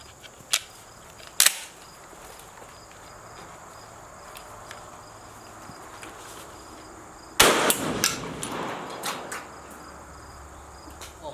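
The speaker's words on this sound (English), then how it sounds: "you should not shoot sunglasses with shotguns" A shotgun fired at a pair of Gargoyles ballistic sunglasses outdoors, with two sharp distant reports early on, then a louder burst of cracks and rattling impacts midway, over a steady background of chirping crickets.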